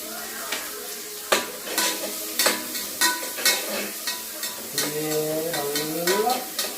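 Onions going into a pot over a full gas flame for village-style chicken biryani, with repeated clanking stirs against metal over a low sizzle, close and fairly loud.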